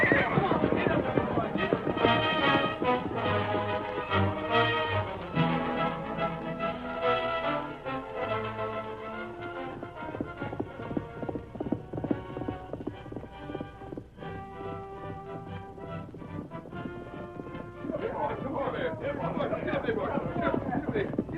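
A wild stallion neighs and gallops amid a chaotic old radio-drama chase, with hoofbeats, shouting men and dense music all blended loudly together throughout.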